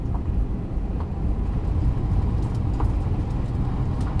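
A car accelerates in a straight line on a driving circuit, heard from inside the cabin as a loud, steady low engine rumble and road noise with faint knocks, with no one speaking.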